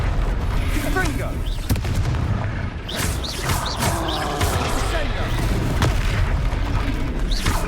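The Confringo fire spell bursts repeatedly in the Hogwarts Legacy video game, heavy booming blasts under loud continuous combat noise and game music, with a voice speaking over it.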